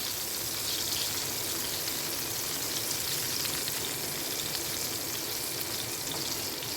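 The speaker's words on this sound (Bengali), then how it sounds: "বেগুনটাকে আমরা একটু ভালো করে ভেজে নেবো" Thick eggplant pieces fry in hot oil for a fish curry, giving a steady, dense sizzle and crackle that runs unbroken and close throughout, with no voices.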